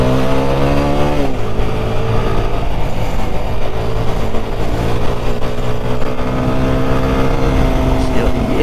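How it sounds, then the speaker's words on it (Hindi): A Kawasaki ZX-10R and a Triumph Tiger motorcycle accelerate nearby, engine tone sustained and loud with a drop and climb in pitch as gears change, wind rushing over the microphone throughout. "तो अभी हम आ गए हैं बाइक पे और बाइक को भगाते हैं।"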